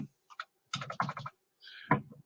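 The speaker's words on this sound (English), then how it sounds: "type your name" A computer keyboard being typed on to enter a name, heard as short bursts of close key clicks separated by brief pauses, no talking.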